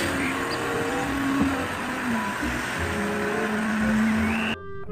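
Sand truck engine drones at steady revs, a continuous mid-level rumble with a faint tonal whine that cuts off abruptly just before the end.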